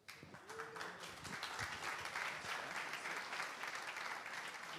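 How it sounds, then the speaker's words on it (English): Applause from a conference audience, a dense sustained patter of many hands clapping that swells and holds steady at a moderate distance. "I think that those guys deserve an applause"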